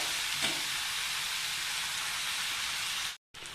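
Crumbled idli frying in a tempering for upma, a steady close hiss of sizzling oil that cuts off abruptly near the end.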